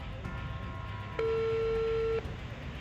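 A telephone ringback tone on an unanswered call sounds once: a single steady beep about a second long, set against faint background hiss with no speech.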